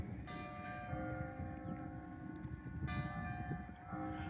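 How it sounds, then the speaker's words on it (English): Church bells ring at a distance in Washington, faint tolling tones rising above a busy, rumbling outdoor background, with a second set of strikes arriving toward the end. "quite a few church bells going off on a regular basis,"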